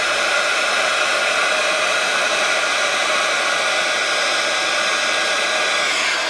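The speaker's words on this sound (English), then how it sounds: "just warm up my heat tool again" A heat embossing tool blows hot air over a stamped card sentiment, producing a steady, loud, even whoosh that holds unchanged for the whole stretch with no voices.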